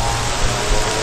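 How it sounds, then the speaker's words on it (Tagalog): Steady rain falls continuously in a rural Philippine setting near a saba banana tree, a loud, even wash of broadband hiss with no distinct drops or voices. "Tuloy-tuloy naman ang ulan."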